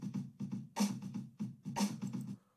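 A programmed drum loop from the EarSketch music software repeats a steady beat of kicks and snare hits, crisp and evenly spaced, played alone and fairly quiet.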